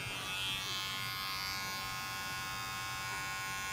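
Electric hair clippers buzz steadily during a drop fade haircut, taking a wavy-haired head down to a zero guard near the hairline; a close, constant high-pitched hum with no pauses or talking.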